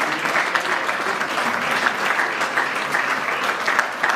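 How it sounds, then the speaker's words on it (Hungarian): Steady applause from an audience at a Hungarian folk dance group's jubilee gala, dense continuous clapping that stays loud and even throughout with no voices on top. "Egy tapsot szeretnék kérni neki még ide felé"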